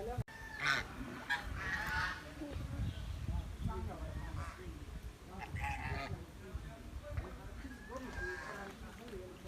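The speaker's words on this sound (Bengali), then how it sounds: "গ্রামের কিছু হাঁস দেখতে পাবেন এখন" Village ducks honk and quack repeatedly at close range amid outdoor bustle, with people talking throughout.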